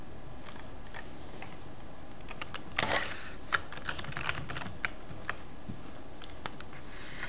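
Steady, soft tapping on a computer keyboard as a username and password are typed at a login screen, the keystrokes quick and even with a few louder taps, no voices.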